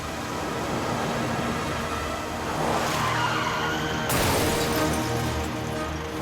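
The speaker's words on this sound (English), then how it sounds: "One of the guys heard tires screeching and that definite thud" Tires screech and skid on a highway, building in a long squeal before an abrupt crash thud, all in one loud, close burst.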